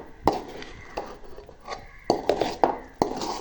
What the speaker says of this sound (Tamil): இந்த பாத்திரத்தும் வந்து ஒட்டாத பழுதம் வரைக்கும் நாங்கள் நல்லா கிளறி கொண்டு இருக்கணும்.